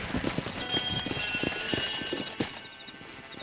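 Horse hooves clip-clopping in the video game Red Dead Redemption, a rapid steady trot of hoofbeats at moderate loudness over faint ambient background.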